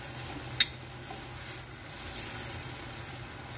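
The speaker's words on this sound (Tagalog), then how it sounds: "Lutuin natin siya hanggang mag-dry yung sauce." Sauce cooking down in a pan at home, a faint low simmer and sizzle with one sharp click of a utensil early on, otherwise quiet and without talk.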